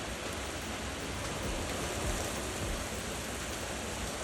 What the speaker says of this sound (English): This goddamn rain slowing me down.